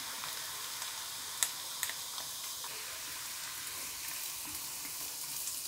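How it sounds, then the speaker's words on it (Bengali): Finely chopped garlic frying in butter in a pan, a soft steady sizzle with a couple of faint stirring clicks near the start, no voices. "রসুনটাকেও হালকা করে একটু ভেজে নিতে হবে"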